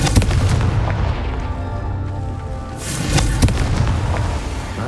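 Confringo explosive spell blasts in the wizarding game Hogwarts Legacy, loud booming bursts and crackling impacts over a dense combat din, one big blast near the start and another midway.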